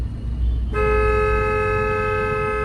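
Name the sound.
car horn, long press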